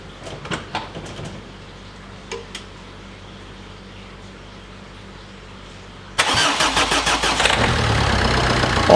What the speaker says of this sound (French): Ah, c'est bien un diesel.